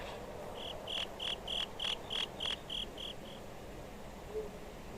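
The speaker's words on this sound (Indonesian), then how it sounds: "Suara jangkrik kayak real gitu." Crickets chirp in the video game Harvest Moon: Friends of Mineral Town, a run of about ten evenly spaced high chirps lasting a few seconds before falling quiet over a faint background hum.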